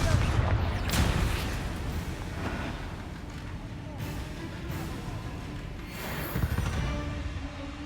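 Confringo fire-blast spells cast in the wizarding video game Hogwarts Legacy, several sharp explosive bursts with rumbling tails spread across the stretch, over a steady windy game background.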